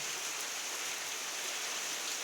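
A sudden heavy rain shower in Mumbai pours down as a dense, steady hiss of falling water that stays constant and unbroken throughout.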